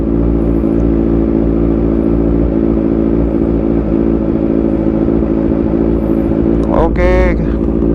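A modified 2014 Kawasaki Z1000 Sugomi sits on launch control held near 5000 RPM, a loud, steady, raspy engine drone close by, with a brief voice near the end.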